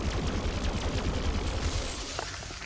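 Rapid bursts of gunfire from a weapon in the video game Plants vs Zombies Garden Warfare 2 crackle in quick succession, a dense, continuous volley of shots at moderate loudness with no voices.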